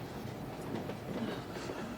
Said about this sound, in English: We've been on this train for 12 hours